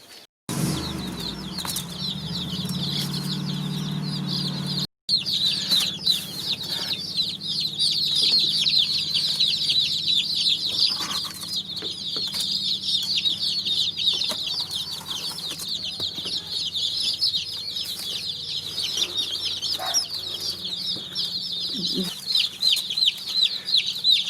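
Five rare-breed baby chicks peep steadily inside a cardboard shipping box, a dense, continuous high chirping chorus that runs throughout at close range, with light rustling and a brief dropout partway through.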